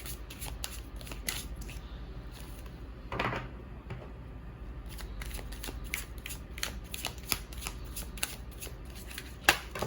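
A deck of tarot-style cards is shuffled by hand in a quiet room, a steady run of soft riffling and flicking strokes with one louder burst partway through, close and alone.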